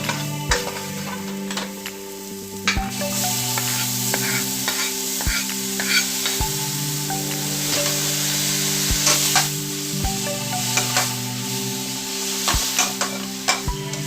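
Spinach stir-fries in hot oil with ginger and chili in a pan, a steady close sizzle broken by repeated clacks and scrapes of a spatula tossing the greens, with no talking.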